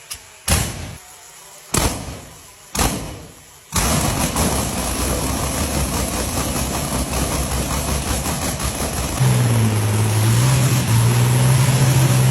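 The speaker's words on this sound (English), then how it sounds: "This Rolls-Royce V12 Meteor engine was started again for the first time in 12 years." A Rolls-Royce V12 Meteor engine, run for the first time in 12 years, coughs through three sharp cranking bangs and then catches into a loud, dense, continuous roar that swells further near the end.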